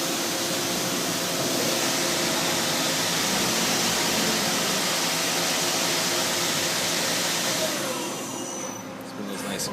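Daewoo Lynx 210A CNC turning center running its spindle: a loud, steady, broad hiss and hum that holds throughout, easing slightly at the very end.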